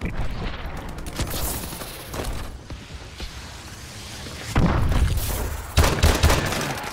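Gunfire in a shooter video game, with scattered shots and mechanical clatter over a busy battle din, then louder bursts near the end.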